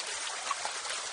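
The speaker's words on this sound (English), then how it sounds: "That is beautiful flowing water." A small stream near a little waterfall flows in a steady, broadband rush, close and even, with a couple of faint splashy trickles and no talking.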